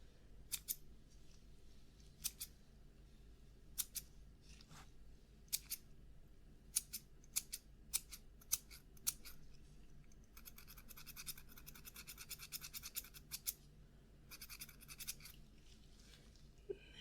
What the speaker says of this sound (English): Now let me just trim those little pieces of flesh that you didn't want